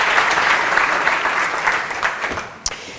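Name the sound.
audience applause for Carmen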